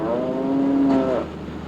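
A dairy cow gives a single drawn-out moo lasting about a second, close and clear, fading into quiet room noise.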